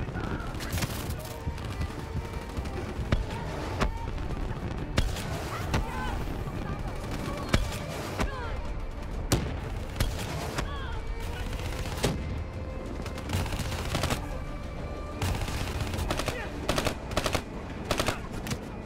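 Rifle and automatic gunfire in the Call of Duty: Black Ops III video game, dense rapid bursts and sharp shots repeating throughout over a busy battle din, with a voice talking underneath.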